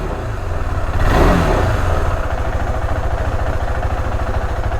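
A motorcycle engine revs at the start of a long-distance ride, surging briefly near the beginning, then settling into a steady, close, throbbing pulse.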